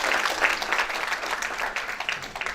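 An audience at a social cohesion dialogue gives a round of applause, dense steady clapping from many hands across the whole moment, loud and close, with no talking over it.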